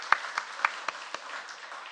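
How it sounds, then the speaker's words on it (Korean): Church congregation clapping at a special dawn prayer service, about five sharp claps spaced evenly at a moderate pace over a soft, diffuse spread of applause, fairly faint and distant. "한번 박수를 드리겠습니다."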